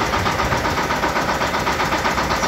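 A Shifeng SF-350L belt-driven mini tractor engine running steadily, a loud close idle with a rough, even pulsing throb and no talk over it.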